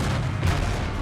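Cannon fire in the Napoleon Total War video game: dense, continuous battle rumble with booming artillery blasts overlapping into a loud, sustained roar.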